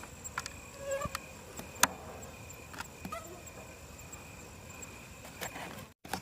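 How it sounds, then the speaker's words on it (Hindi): Insects and mosquitoes drone and chirp around a light at night in a village, with steady high-pitched whining tones, scattered clicks and small bumps, faint and continuous with no talking. "मैंने अभी लाइट बंद करी थी कि ये मच्छर वगैरह चले जाएं"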